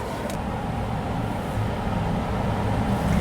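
A right-hand drive GMC Hummer EV rolls along on the road, giving a steady, smooth low rumble of road and tyre noise with no engine roar and no talking.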